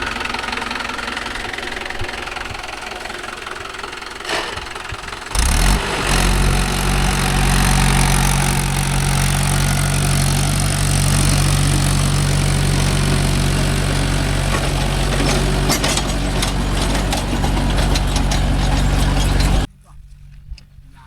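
A Mahindra Arjun Novo 605 tractor pulling a plough runs with a loud, steady diesel drone and knocking rumble close by, growing heavier partway through before cutting off abruptly near the end.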